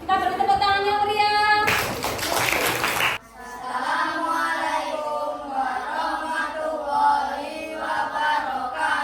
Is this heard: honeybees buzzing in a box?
no